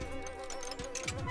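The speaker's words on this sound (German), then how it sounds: "Du mieses Bienenvieh." A bee buzzes in the SnipperClips puzzle game, a thin wavering insect drone that pitches up and down over a soft game soundtrack, up close and unbroken.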